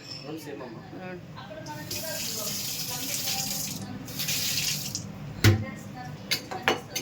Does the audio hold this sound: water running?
yes